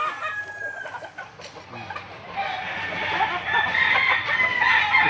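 Chickens at a livestock auction market in Lipa, Batangas cluck and crow repeatedly, with a rooster's crow growing louder in the second half against a busy farmyard background.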